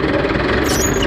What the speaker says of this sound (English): There's a lovely sound off this engine.